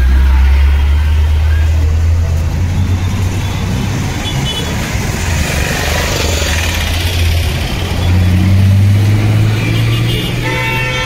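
A Mumbai BEST bus and other traffic roll past on a busy city street, with a loud, steady low engine rumble and a broad wash of road noise throughout, with no one speaking.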